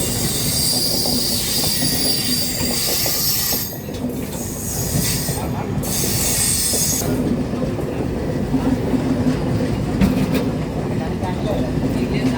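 Shalimar Trivandrum Express rolling along platform 1 at Tiruppur station, a loud continuous rumble of rail wheels with high metallic squealing and clatter, and voices heard faintly now and then.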